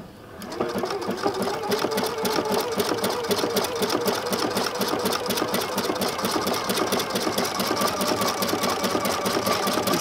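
A sewing machine fitted with a decorative trim (ribbon) foot stitches down ribbon at a 4 mm stitch width, running steadily and close-up from start to finish after a brief quiet opening.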